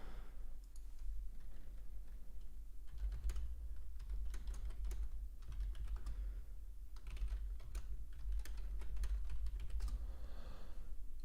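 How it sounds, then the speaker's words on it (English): Close computer keyboard typing in quick irregular bursts of clicking keystrokes, continuing alone over low background hum without talk. "If you do hear typing, that's just me making alerts in the private community that I offer."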